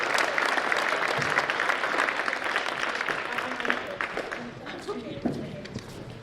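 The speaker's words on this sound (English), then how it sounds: "So give them a round of applause." Applause from an audience at an academic awards ceremony, dense clapping that gradually thins out, with a voice speaking over it.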